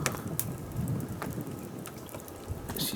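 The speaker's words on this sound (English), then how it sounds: "She still keeps raining though." Rain falling at a lake in November, a soft steady hiss of drops with a few sharper patters, quiet and close with no voices.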